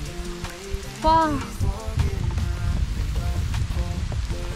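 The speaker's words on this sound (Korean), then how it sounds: "갑자기 비가 마구 쏟아지고 있어요" Heavy rain pours down near Baegunbong peak on a Korean mountain, a dense, steady hiss and patter close to the microphone, while a person briefly exclaims early on.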